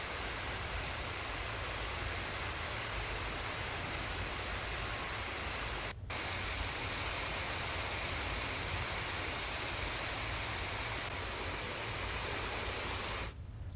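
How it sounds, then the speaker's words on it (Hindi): Heavy rain falling across a city, a dense, steady hiss that stays loud and unbroken throughout with no voices. "सुबह से शहर के कई इलाकों में तेज बारिश दर्ज की जा रही है।"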